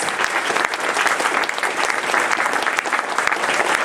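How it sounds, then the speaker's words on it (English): Dense, steady applause from a large convention audience at a closing ceremony, many hands clapping continuously at even loudness throughout with no pauses. "Give yourself a round of applause."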